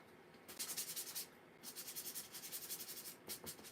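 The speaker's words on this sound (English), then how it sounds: "I need to sand it just lightly" A painted wooden kit piece gets a light sanding, heard as close, quiet rasping strokes in quick rhythmic bursts with a brief pause between passes.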